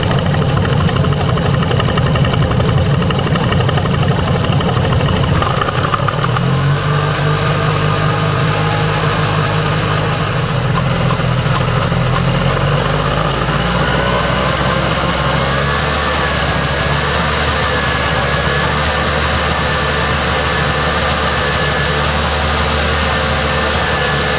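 A Cushman Trackster's small engine runs steadily at idle, a loud continuous chug with hissy, leaky exhaust; the tone shifts slightly after the first few seconds as it settles, with no talk over it.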